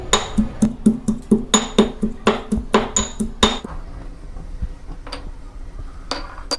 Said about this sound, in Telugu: ఆయిల్ వేడెక్కే లోపల మనం వెల్లుల్లిని దంచుకుందాము